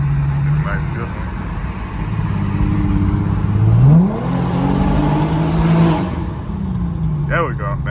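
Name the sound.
Infiniti Q50 car engine revving in sport mode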